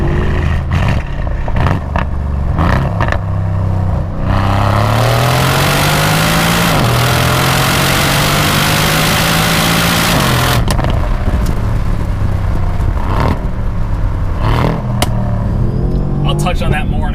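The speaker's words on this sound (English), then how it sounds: "It also helps that V8 sounds pretty good." Loud tuned Mercedes-AMG C63 S twin-turbo V8 rated at 674 horsepower revving and accelerating hard, a rising, rumbling exhaust roar through the middle, with short throttle blips and shifts before and after.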